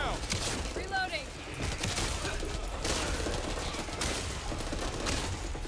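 Scattered bursts of gunfire in the zombie shooter Back 4 Blood, crackling in short volleys under frequent overlapping talk from players.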